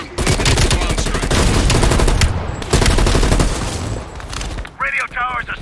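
Machine gun fire in Call of Duty Black Ops Cold War rattles in loud, rapid sustained bursts with brief gaps, and a short radio-style voice breaks through near the end.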